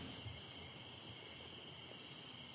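Crickets keep up a steady, faint high-pitched chirring at night, with no voices.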